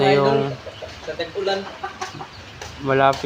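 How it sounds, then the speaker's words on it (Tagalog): Chickens clucking and squawking nearby in short repeated calls, with a louder drawn-out call at the start and another near the end. "Prepare na yung mga manok ni Boss James."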